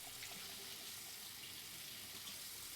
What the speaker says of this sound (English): You see if I can't run it under some hot water here.